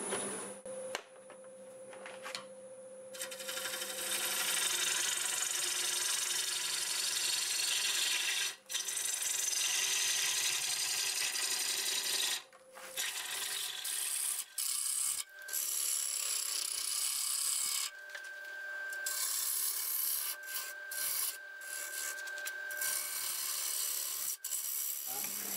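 English walnut turned on a lathe with a freshly sharpened 5/8 bowl gouge, cutting away a crack to shape a pot form: steady, close broadband cutting hiss over a motor hum, broken by a few brief pauses.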